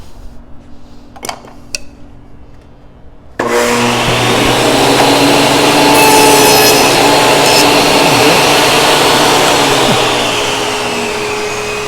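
A table saw set up as a dedicated tenoning station cuts an offset tenon in wood. A few faint clicks in near-silence give way to a loud, close, steady motor roar and whine that holds to the end, with no talking.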